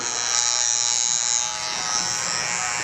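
An electric hair trimmer buzzes close up while cutting a taper, a steady high-pitched motor drone with slight wavering as the blade moves through the hair.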